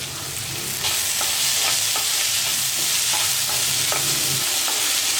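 Steady sizzling of vegetables and tomatoes frying in a pan for semiya kichadi, with repeated scraping taps of a spoon stirring them, close and continuous.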